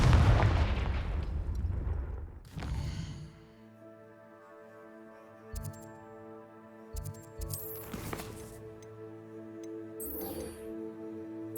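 A Confringo fire-blast spell cast in Hogwarts Legacy lets off a sharp booming explosion that fades into a ringing tail. Smaller bursts and pops follow later over a sustained musical drone, with no talking.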